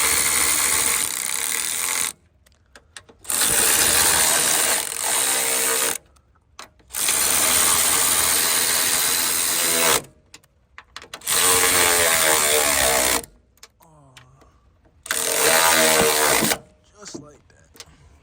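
Someone tightens a nut on the strut brace of a 2019 Honda Accord with a powered tool, producing loud, steady mechanical whirring bursts of a few seconds each, separated by short pauses, with brief talk in a gap.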